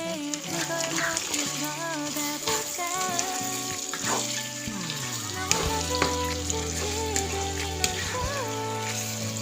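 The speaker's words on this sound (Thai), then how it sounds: "คือผัดแตงใส่ไข่เนาะ" Cucumber and egg are stir-fried in a pan with a constant sizzle and occasional spatula knocks, partly covered by loud tonal voices or music.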